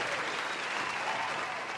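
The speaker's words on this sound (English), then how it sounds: "Let's give another round of applause for them." An audience gives a short, even burst of applause, a steady wash of many hands clapping together at moderate volume with no voices.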